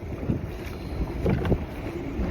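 Strong wind on a Utah lake during trolling from a boat, heard as loud rumbling buffeting against the microphone with gusting surges and faint water movement, close and continuous.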